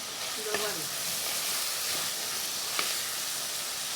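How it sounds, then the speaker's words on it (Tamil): Eggplant sizzles and fries steadily in a clay pot, with faint stirring scrapes and clinks over the continuous hiss. "இப்போ எந்த அளவுக்கு வதக்கணும் இதை காட்டுங்க."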